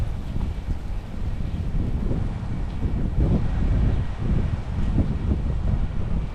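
Strong wind by a lake in Toronto, Ontario, buffets the microphone in a continuous low rumble with gusty swells, loud and steady outdoors, no speech.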